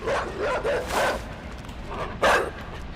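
A dog in a video game barks and yips in short bursts, a few separate outbursts over a steady low background hum, fairly close.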